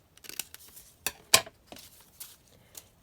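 Scissors snip through paper laminated with lace, giving a few sharp, close crisp cuts and lighter rustles spaced irregularly across a quiet background.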